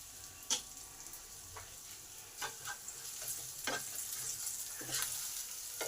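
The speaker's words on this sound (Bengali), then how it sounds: "একটা পেঁয়াজ কুচি দিলাম, স্বাদ অনুযায়ী নুন দিলাম পেঁয়াজটা তাড়াতাড়ি নরম করে ভাজার জন্য।" Chopped onion frying in oil with garlic, chili, cumin and salt, a soft steady sizzle with occasional scraping stirs of a spatula, fairly quiet and close, no voices.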